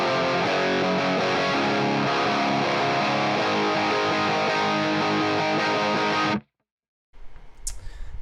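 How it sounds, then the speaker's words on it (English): Distorted rhythm guitar plays through the chorus of a song, a dense, steady wall of chords that cuts off abruptly before a brief, quieter tail. "I'll just play through what the rhythm is playing in the chorus"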